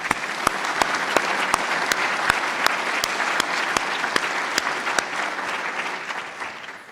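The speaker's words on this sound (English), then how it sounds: "let's have a round of applause for them" Audience at the 2018 NAM Annual Meeting applauds newly introduced members and fellows: sustained, even clapping from a large crowd with sharp, regular claps from one nearby pair of hands, fading out over the last second.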